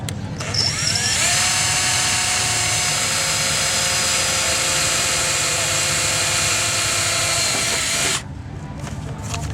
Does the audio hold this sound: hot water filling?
no